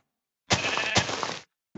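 A single sheep bleats in the Minecraft video game, one short nasal bleat close and clear, followed by a brief click at the very end.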